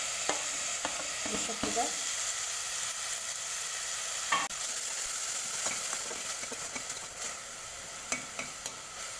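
Onion frying and being stirred in good-quality ghee, with a steady close sizzle, scraping stir strokes throughout and a few spoken words.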